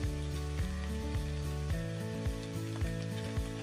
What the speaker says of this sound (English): give it a stir until everything is coated